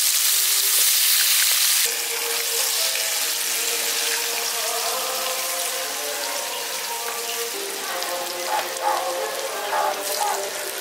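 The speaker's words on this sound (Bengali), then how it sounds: "আলুগুলো আমি এখানে লালচে করে একটু ভেজে নিয়েছি" Potato pieces coated in salt and turmeric fry in hot oil with a continuous sizzle and occasional crackles, after an opening moment of broad hissing; no one talks.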